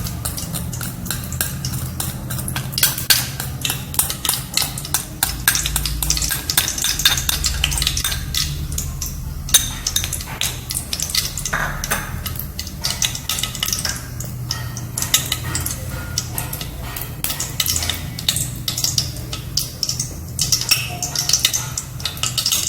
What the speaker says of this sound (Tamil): இப்போ வச்சிருக்கிற நெய் எல்லாத்தையும் போட்டுக்கலாம்.